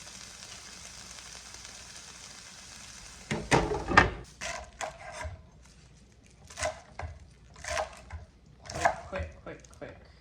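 Chard and kale being chopped for cooking, with sharp knife strokes on a board in several short bursts after a quiet start, some faint kitchen sizzle behind.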